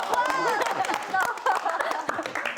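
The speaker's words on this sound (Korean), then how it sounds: "박수 쳐주시는 건가요?" Audience members at a Gyeongju music talk show clap in scattered bursts while people keep talking and chuckling over them.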